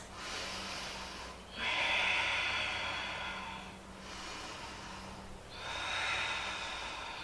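Strong, forceful breaths during a held yoga pose, with about three long airy inhales and exhales in slow rhythm over steady room noise, close and moderately loud.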